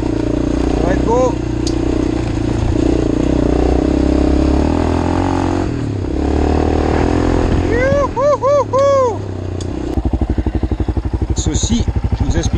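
A Yamaha XTZ 660 motorcycle engine revs loudly close by, rising and falling through several throttle blips before settling into a rapid thumping idle, with people talking over parts of it.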